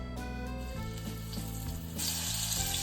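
Beef searing in bacon fat in a pan, a steady close sizzle and frying hiss throughout that grows brighter and louder near the end, with no talking.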